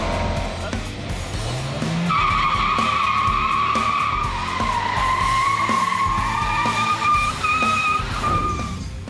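A 2013 Chevrolet Trax skids with a long tire squeal, then its engine pulls it away, loud at first and fading slightly over about nine seconds, with no talk.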